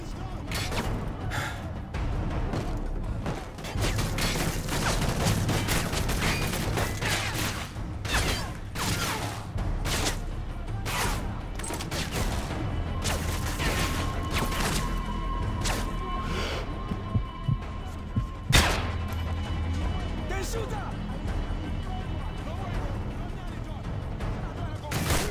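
Gunfire in Call of Duty Modern Warfare 3 cracks through the game's battle din in dense, repeated bursts and single sharp shots, with sounds of mechanisms and a player speaking over much of it.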